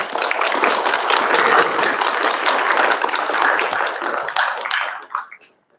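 At a county spelling bee, the audience applauds the contestants with a full, steady burst of clapping that holds for about five seconds, then quickly dies away to silence.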